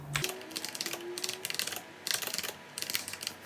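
Fingers type a prompt on a computer keyboard in quick clustered bursts of clicking keystrokes, close and clear, separated by short pauses, with no voice.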